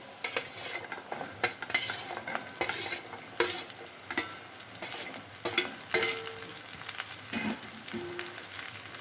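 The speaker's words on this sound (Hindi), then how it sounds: "अब इसमें हम जो कटी हुई भिंडी है उसे डाल देंगे।" Chopped okra (bhindi) hitting hot oil in a pan and sizzling, with repeated close scraping and stirring strokes of a spatula in an uneven rhythm, no one talking.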